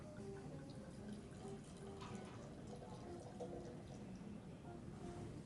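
Malbec red wine poured from a bottle into a glass, a soft continuous trickle and gurgle heard faintly at close range in a quiet room.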